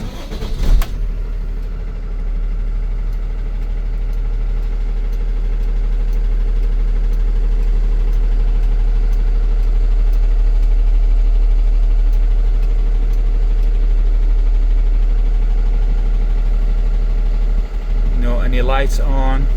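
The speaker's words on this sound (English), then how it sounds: "Let's start the engine." A diesel engine in a 2021 Freightliner M2 box truck cranks and starts with a short burst, then settles into a loud, steady, rumbling idle. The idle holds close and even for most of the clip, with a brief clatter near the end.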